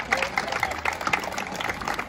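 Audience at a seaside horse beauty contest during a village festival claps for an entrant, a steady patter of hands from a moderate crowd mixed with faint voices.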